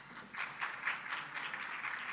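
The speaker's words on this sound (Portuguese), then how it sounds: "le damos un gran aplauso" An audience at a Brazil–Chile agribusiness and sustainability forum applauds for a guest being introduced, a soft, distant, steady clapping that carries on evenly throughout.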